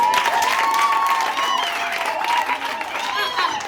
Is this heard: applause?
yes